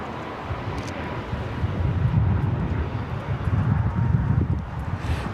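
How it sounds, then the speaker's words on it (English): Alaska Airlines Boeing 737 MAX 9 in Seattle Kraken livery takes off at LAX, a steady broad engine roar that swells and holds, heard from a distance with wind noise and no talk. "This is Alaska Airlines 1348 taking off to Puerto Vallarta on the MAX 9 in the Seattle Kraken livery."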